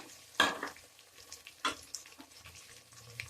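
Ginger garlic paste sizzles in a pan over fried onions while a utensil stirs it, giving sharp scraping bursts and soft crackling at close range, quiet and without speech.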